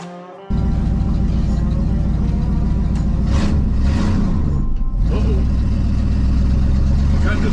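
A 1968 Ford F100 Ranger pickup with a long-abandoned engine starts up and runs with loud revving, growing louder as the tires spin, while voices carry over the engine.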